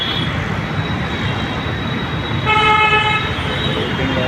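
Heavy road traffic rumbles across the Hirwani bridge on Goregaon road, a dense, loud, continuous roar of vehicles, with a long steady car horn blaring partway through and a fainter horn near the end, no voices.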